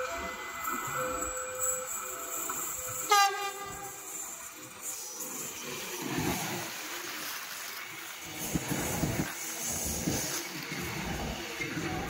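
An airport train on the Solo Balapan to Adi Sumarmo line passes on the railway track in Solo, a short horn blast followed by the sustained rumble and clatter of the cars rolling by.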